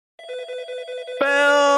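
A telephone bell rings in a steady repeating trill that jumps louder and brighter partway through, sounding close and alone without talk.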